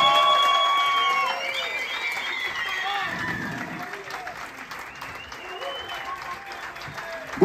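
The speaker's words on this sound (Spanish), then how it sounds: "Más fuerte el aplauso aquí para los que están." Audience applauds and cheers for a live band at a show, steady clapping throughout with a voice speaking over it and a faint musical tone lingering underneath.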